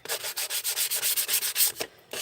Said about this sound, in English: Let me get my sandpaper.